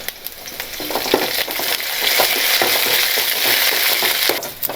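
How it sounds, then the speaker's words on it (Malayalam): Curry leaves tossed into hot oil with browned onions crackle and sizzle loudly and continuously, with brief spattering pops and stirring, no voices. "നമുക്ക് കറിവേപ്പില ഇട്ട് കൊടുക്കാം."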